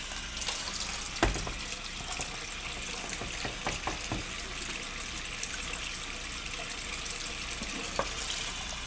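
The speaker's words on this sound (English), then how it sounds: "I'm basically going to cover this with water" Steady splashing and rushing of water pouring into a pot of green beans and potatoes, with a few sharper clinks and knocks breaking through the constant flow.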